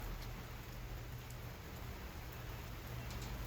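Rain falls steadily on a rainy North Carolina Tuesday, a dense, even hiss of drops on surfaces with a low rumble beneath, constant and fairly faint without any voices.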